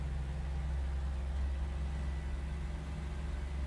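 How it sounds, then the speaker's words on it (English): A warplane's piston engine drones in the IL-2 Sturmovik combat flight game, a steady low rumble holding at constant loudness with no voices. "Yeah, I can hear your engine."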